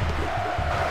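Steady stadium crowd noise from a PS2 football game rises in a continuous roar and chant, backing a Santos match as a dense, loud wash that fills the whole moment.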